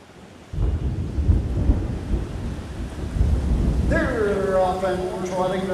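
Rumbling thunder during a storm at an outdoor harness race at a county fair, a long deep roll that swells and lingers, with a voice talking over it at the end.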